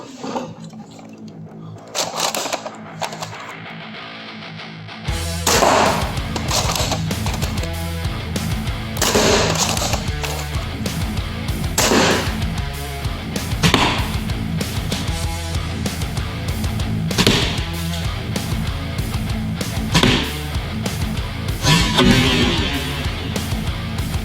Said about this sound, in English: Alright, first testing with the normal Nerf darts.